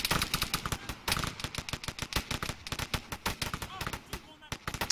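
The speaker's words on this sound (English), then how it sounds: "He's just firing while moving." Soldiers in a video game let off rapid, loud gunfire, dense volleys of sharp shots crackling almost without pause, with a voice talking underneath.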